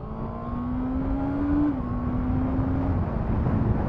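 Honda CBR650R sport motorcycle from 2023 accelerating hard in second gear across an open road, its engine note climbing steadily, dipping briefly at a shift, then rising again, loud and close under wind rush.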